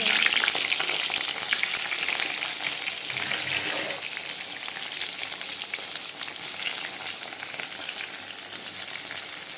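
Eggplant frying in a pan gives off a loud, continuous hissing sizzle close at hand, with faint stirring underneath.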